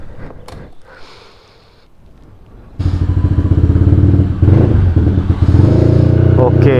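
A modified Yamaha Aerox scooter with a 14-tooth sprocket and Brembo M50 calipers is ridden, its engine rising from a low idle to a loud, close revving drone as it pulls away, with wind buffeting throughout.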